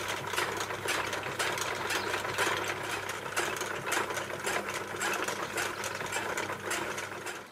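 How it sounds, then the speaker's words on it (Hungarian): An industrial high-speed sewing machine stitches garment fabric for traditional folk clothing, a fast steady whirring hum with repeated bursts of stitching, close and fairly loud, with no talk. "A lényeg az, hogy egy picit gyorsabb ezekkel a gyorsvarrógépekkel"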